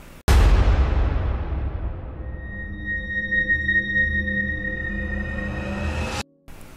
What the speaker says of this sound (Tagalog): kuhang-kuha sa kamera ang mga pagsabog at nakakakilabot ng mga sigawan ng mga tao